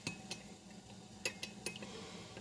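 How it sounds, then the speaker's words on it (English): A spoon stirs honey into a lip balm mixture, giving faint, sparse clinks and ticks against the container over a quiet background, with no speech. "just gonna keep on stirring"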